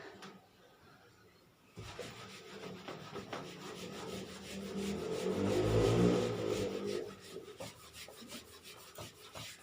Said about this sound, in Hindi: चलिए अब रब कर देते हैं।